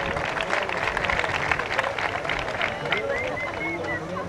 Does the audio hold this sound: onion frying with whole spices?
no